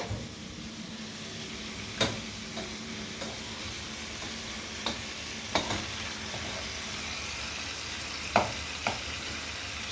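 Food sautéing in a pan, a steady low sizzle with scattered sharp clicks of a utensil tapping the pan at irregular intervals.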